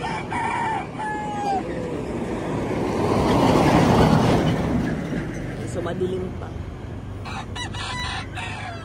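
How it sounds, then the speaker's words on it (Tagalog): Roosters crow repeatedly, some close and some farther off, over a steady rumbling engine-like background, with a person speaking briefly. "may narinig akong tilawak ng manok, pati yung mga dala kong mga manok tumitilawak na"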